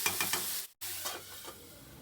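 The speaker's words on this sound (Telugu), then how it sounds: "ఆనియన్స్ మంచి గోల్డ్ కలర్ వచ్చే వరకు కూడా బాగా ఫ్రై అవుతాము" Onions with turmeric frying in a pan, a steady close sizzle with rhythmic scraping strokes of a spoon, broken by a brief moment of silence midway.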